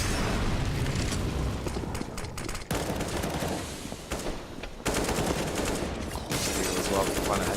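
Rapid automatic gunfire bursts in Counter-Strike: Global Offensive, loud and continuous, with brief pauses between volleys and some explosive booms mixed in, while game noise fills the background.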